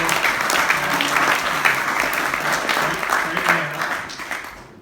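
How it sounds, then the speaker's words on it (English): Sustained applause from an audience at a lecture on the Eleventh Corps at Chancellorsville, dense clapping filling the room steadily for several seconds with a few voices mixed in, tapering slightly at the end. "a big round of applause to Ryan and Sierra and their group for a great deal"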